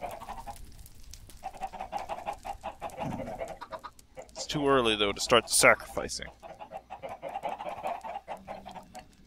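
Chickens in the game Minecraft cluck and squawk in a brief burst of bird calls near the middle, under and between people talking over a steady background hum.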